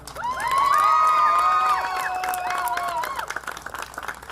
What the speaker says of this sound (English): I think the applause is not enough for Santa.